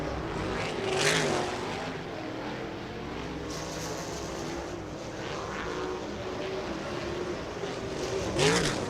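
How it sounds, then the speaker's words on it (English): Dirt-track race cars on hot laps at the Terre Haute Action Track roar past in a continuous, distant drone, engine pitch swelling and fading as cars pass, with louder surges near the start and end. "following this group of cars on track here for Dirt Draft Hot Laps"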